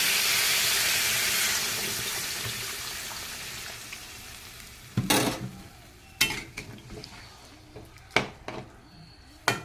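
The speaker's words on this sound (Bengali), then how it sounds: "এখন আমরা এটা ভাজা হয়েছে, আমি কিন্তু এর ভিতরে জল দিয়ে দেবো" Water hits fried soybean chunks in a hot pan: a loud hissing sizzle bursts up and slowly dies away over several seconds, followed by scattered metallic clanks of a utensil against the pan.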